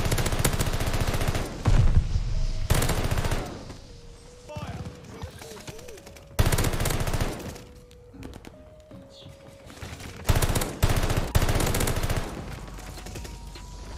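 Automaton automatic rifle firing in the shooter game Call of Duty: Vanguard, with several loud bursts of rapid fire separated by quieter gaps while a voice talks over the action.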